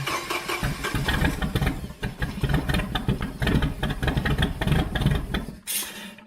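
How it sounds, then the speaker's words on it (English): A MerCruiser marine engine with a too-rich fuel mixture cranks and catches, then runs with a rough, throbbing idle, loud and close, before cutting off abruptly. "when I went to start the engine again"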